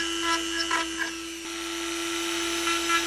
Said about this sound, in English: So I'm just going to get my Dremel on it and just grind away at the metal a little bit here